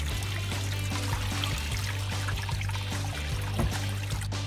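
Spring water flowing outdoors on Yakushima, a steady soft trickling and pouring under a low constant hum, continuous and fairly close, with no talking.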